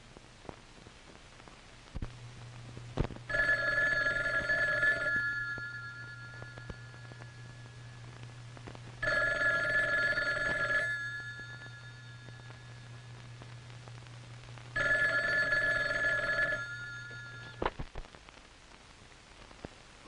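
A telephone bell rings in three long bursts separated by pauses of a few seconds, loud and clear over a steady low hum, with no talking.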